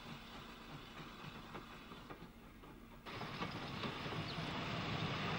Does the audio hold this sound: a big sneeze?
no